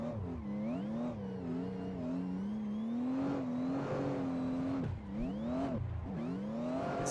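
Race car engine in a racing sim game during Shadow Realm ProAM car pack testing, revving loud and continuous with rising and falling pitch through gear changes, dipping sharply near the end before climbing again.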